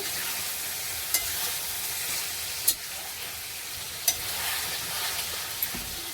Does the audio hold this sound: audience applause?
no